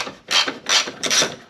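A ratchet wrench backs out a 10 millimeter headlight bolt on a Pontiac GTO, three close rasping clicking bursts in a steady back-and-forth rhythm.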